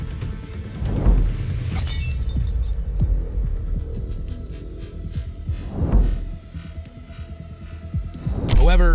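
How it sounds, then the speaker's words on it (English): A glass emergency fire exit door in a courthouse is smashed with a water bottle, giving several loud crashing bursts of breaking glass spaced seconds apart over a low, throbbing hum. "Campion shattered an emergency fire exit door with his water bottle"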